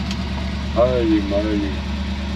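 A 1978 Ford F100 truck engine runs at a steady low idle throughout, a constant rumble under a brief spoken exclamation.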